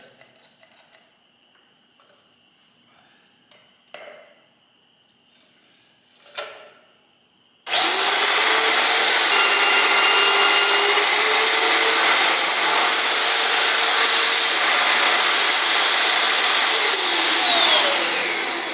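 A drill bores a hole through the steel frame of a Peterbilt 359 truck during a frame-stretching restoration. A few faint taps and knocks come first, then the drill starts suddenly and keeps up a loud, steady, whining grind for about ten seconds.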